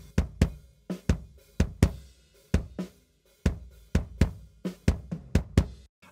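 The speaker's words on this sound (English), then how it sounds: "So this is the first microphone inside of the kick drum." Solo kick drum thumps from a microphone inside the drum, unprocessed, heard close and dry, a series of deep punchy hits in an uneven pattern with short decays and brief pauses.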